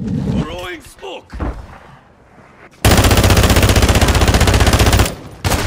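Shotgun and automatic gunfire in a Call of Duty match: a loud, dense burst of rapid shots fills the second half after scattered game sounds and a muffled voice, followed by another short blast at the end.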